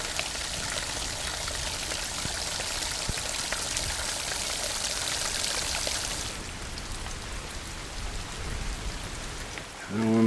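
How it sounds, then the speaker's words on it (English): Steady rain falls through a forest in the Great Smoky Mountains, a dense, even hiss of drops on leaves and ground, close and continuous, easing slightly partway through. "it seems like the rain's not coming down as hard"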